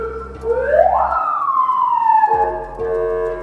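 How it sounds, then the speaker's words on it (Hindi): A loud electronic siren on an armored 2009 Toyota Land Cruiser 200 Series VX sweeps up and then slowly down in pitch before cutting back to a steady electronic tone, close and alone. "हूटर साइरन वगैरह भी दिए गए हैं जिससे आप रोड क्लियर करा सकते हैं"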